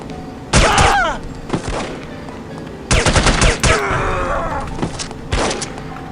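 Gunfire in the video game No One Lives Forever comes in several loud, close bursts of rapid automatic fire separated by short pauses, with game noise carrying between them.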